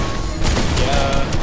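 A loud, close fusillade of Fortnite gunfire, dense overlapping shots packed into a short burst layered with music.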